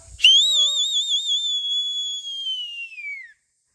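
A single long, high whistle, shrill and warbling, sounds on a mountain trek, held for about three seconds before fading out, with no talk around it.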